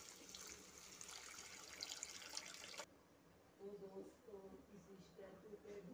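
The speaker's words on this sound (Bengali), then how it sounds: "এবার আমি জল ঢেলে মাছগুলো ছেড়ে দেব।" Water pours into a pan of spiced fish curry during cooking, a soft trickling splash at first that gives way to quieter bubbling and faint kitchen sounds.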